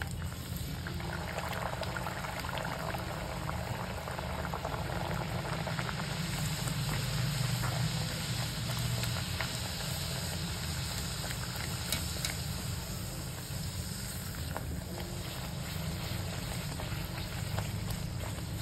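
Potato masala puri deep-fries in hot oil with a steady, close bubbling sizzle that runs evenly throughout without pause.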